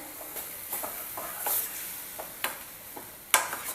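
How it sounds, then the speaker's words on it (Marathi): Vegetables for momos being sautéed in a pan, with a few scraping spatula strokes and brief sizzling bursts at close range, fairly quiet overall. "दोन तीन मिनटं फक्त आपण त्याला परतून घ्यायचं आहे"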